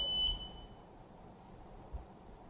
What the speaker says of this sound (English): So we start the timer